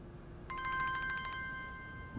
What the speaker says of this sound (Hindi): आमिर का फोन?